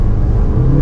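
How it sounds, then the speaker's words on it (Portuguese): A Jeep Renegade's T270 turbo engine revs loudly and closely in a brief, sustained roar with a deep rumbling tone. "fazer o T270 roncar alto"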